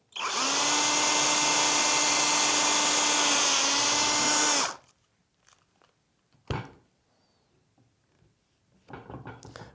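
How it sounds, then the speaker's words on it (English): A power drill bores through a PVC elbow from the inside out, a loud steady whine for several seconds that cuts off, followed by a sharp knock and some handling clatter of the plastic part. "and drill out through the bottom."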